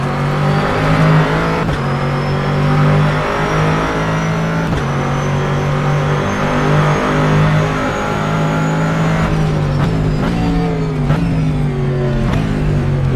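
Simulated race cars from the rFactor 2 racing game lapping Sebring International Raceway, a dense, loud engine drone with shifting pitches, several cars revving and passing close, with brief gear-change breaks and no talk.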